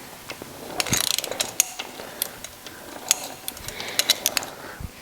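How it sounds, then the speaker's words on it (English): Torque wrench ratcheting as a tapered fill plug is tightened on a Porsche 902 transmission during final assembly; quick clustered clicks come in bursts close by, with a few sharper snaps and no talk. "we are going to do our torque at 25 Newton meters on this plug as well"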